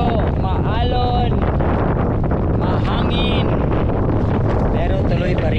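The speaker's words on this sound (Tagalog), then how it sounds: "pagdating namin sa area ay ayan, mag-umpisa lang umiihip ng hangin" Strong wind buffeting the microphone on a rough sea while spearfishing in the Philippines, a constant roar with water noise beneath; a few tonal squeaks or distant voices surface briefly.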